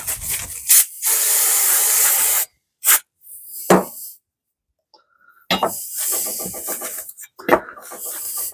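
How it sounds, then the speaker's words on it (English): Brake cleaner hisses from an aerosol can onto a 2004 Vespa ET2 scooter during spring maintenance. Close, sharp spray bursts of uneven length come between short silences, with some rubbing and handling noise. "The brake cleaner. Just try this out."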